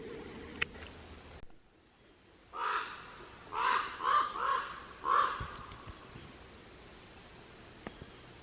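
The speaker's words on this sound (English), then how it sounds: "Two crows were flying over me like I was in their nest or something here." Crows caw overhead in woodland, a run of about five harsh, loud calls in quick succession, then quiet with faint insect buzz in the background.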